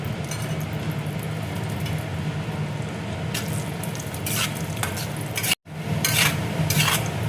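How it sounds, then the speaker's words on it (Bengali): Cashew nuts frying in hot oil in a wok give a steady, dense sizzle with scraping stirs of a spatula on the pan, close and continuous, with no talking. "এবার আমি কাজুটা দেখো ভেজে নেব।"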